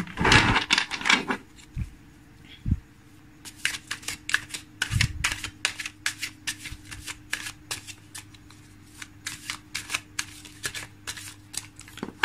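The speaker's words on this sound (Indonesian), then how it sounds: "saya shuffle dulu kartunya" Tarot cards shuffled up close, opening with a loud cut and thump, then a long run of quick, crisp card slaps in an uneven rhythm over a faint steady hum.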